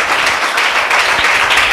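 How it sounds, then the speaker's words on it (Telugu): A church congregation claps loudly together, a dense, even wash of applause that fills the room without pause. "మీరు చప్పట్లు కొట్టేటప్పుడు నాకు చాలా గట్టిగా వినిపించింది మీ చప్పట్లు"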